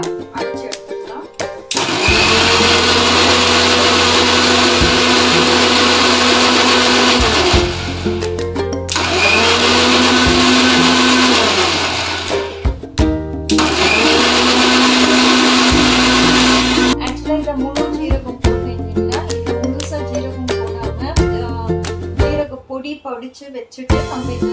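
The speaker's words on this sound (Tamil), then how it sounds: "இப்போ நம்ம இந்த தயிரை வந்து மோரத்துக்கு மிக்ஸியில் நல்லா அரைச்சி எடுத்துக்கலாம்." A mixer grinder blending curd into buttermilk whirs loudly in three long bursts with short pauses between, followed by quieter clattering and rattling.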